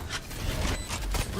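Weapon reloading in the Valorant shooter game: a quick run of mechanical clicks and ratcheting metallic handling over a steady background, loud and close, lasting just over a second.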